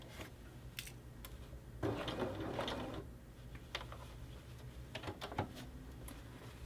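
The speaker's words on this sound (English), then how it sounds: "So I'm just going to sew right into that tip on the one side." A sewing machine stitches fabric into the tip of a continuous bound placket, with faint, intermittent runs and clicks as the fabric is maneuvered.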